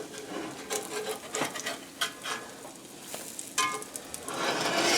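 Food flipped over in a hot frying pan as it browns: a steady crackling sizzle broken by scraping and soft knocks of the turner, the hiss swelling louder toward the end.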